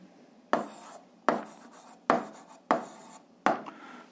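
Five short strokes of writing out a formula for an eighth-grade algebra exercise, each a crisp close scratch that fades quickly, spaced evenly apart with quiet in between.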